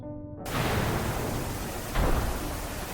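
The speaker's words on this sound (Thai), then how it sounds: "กัปตันบาลินเพิ่งโดนฟ้าผ่าอย่างนั้นเหรอ" Thunder from a lightning strike bursts in after a brief silence, a loud broad rumbling wash with a sharper crack near the end, like heavy stormy noise with no talking.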